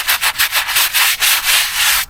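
A hand scraper rasps repeatedly across a weathered gravestone in mid-coast Maine, scraping off crusted lichen in quick, close, rough strokes with no voices.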